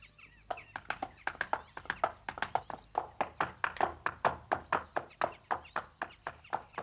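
Rapid, steady clip-clop of horse hooves on a hard surface, fairly close, a brisk regular trot with no voices.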